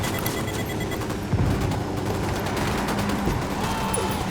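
Dense gunfire in Ghost Recon Wildlands, with sustained rapid bursts and overlapping shots forming a continuous loud barrage from start to finish.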